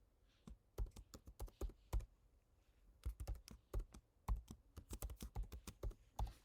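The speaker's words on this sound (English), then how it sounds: "I've typed in my NPS credentials." Login credentials are typed on a computer keyboard, bursts of quick, crisp key clicks close to the microphone, with short pauses between groups of presses and no talking.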